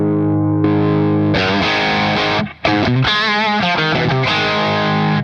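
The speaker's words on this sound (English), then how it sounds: "you're overdriving the preamp tubes in the D20, and you're virtually overdriving EL34s in the software" Heavily overdriven electric guitar through a Revv D20 tube amp with EL34 power amp modeling, thick and saturated, with sustained chords and a brief gap before crunchy riffing resumes.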